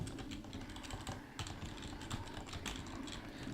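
Rapid, continuous clatter of computer keyboard keys being mashed while playing the beat-em-up Final Fight, close and fairly quiet, with no voices.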